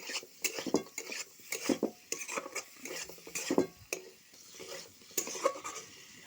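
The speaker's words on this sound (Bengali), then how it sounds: "ভালো হলুদটা ভালো মিক্স করবো। হালকা হালকা ভাবে লাড়ি করে ভাজিয়ে দেবে।" Turmeric is stirred into village-style desi chicken curry in a pot, with repeated scraping and clanking of a metal spoon against the pot in uneven bursts over a faint sizzle.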